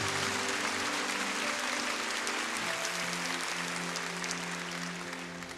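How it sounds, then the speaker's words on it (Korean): A church congregation applauds the pastor after a sermon: dense sustained clapping from a large crowd, steady at first and gradually thinning and fading toward the end, with a faint sustained organ-like tone underneath. "은혜스러운 말씀 전하신 목사님께 박수."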